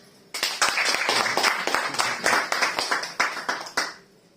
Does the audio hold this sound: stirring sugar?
no